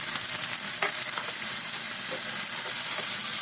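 Onion, garlic and tomato sizzle in a frying pan, a steady close hiss with small crackles and a few stirring scrapes, no talking.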